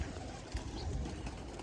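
A pigeon held in the hand gives soft, low cooing, faint and close, with light handling noise and background murmur.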